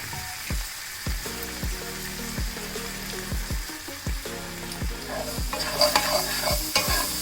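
Close, brisk stirring of a salted, seasoned mixture in a pan, with a spoon knocking the pan in a regular rhythm of about two strokes per second over a soft, continuous sizzle.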